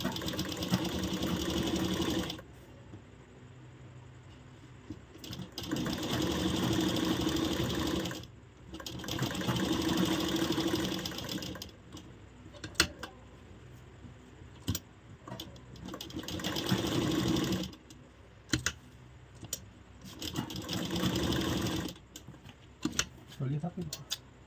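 An electric sewing machine stitches blouse fabric pieces together in repeated bursts of rapid, whirring needle chatter separated by short pauses and small clicks, close and clear.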